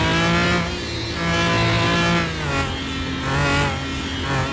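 A McLaren F1 engine in Car Mechanic Simulator 2021 roars steadily and loudly, its pitch rising and falling through repeated revs with no pauses.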